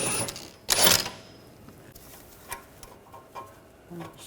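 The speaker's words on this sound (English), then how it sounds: "Using a 18mm socket, take that bolt out." A socket wrench with an 18mm socket works a suspension bolt loose on a 2009-2013 BMW 328i xDrive, a sharp metallic clack followed by several spaced, faint ratcheting ticks, with no talk.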